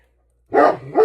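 A guardian dog barks twice in quick succession somewhere in a home kitchen, two sharp, fairly loud barks heard alone after a brief silence.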